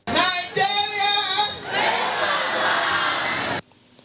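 A large crowd cheers and shouts loudly at a State House as the Vice President and his entourage arrive, a dense roar of voices that breaks off abruptly near the end.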